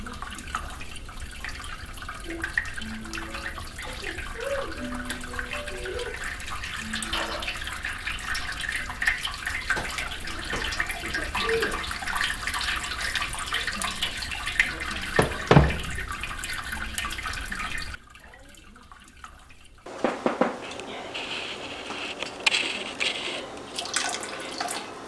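Sparge water poured back into a stainless brewing pot during all-grain brew-in-a-bag brewing, a steady running splash for about eighteen seconds, then a brief pause and a rougher, choppier pour.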